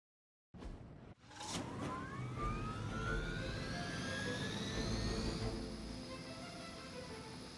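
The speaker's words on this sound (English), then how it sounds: "We can't allow that helicopter to escape." A Hydra helicopter engine in the video game Marvel's Midnight Suns bursts in abruptly, then a loud turbine roar holds steady while whining tones sweep upward in pitch.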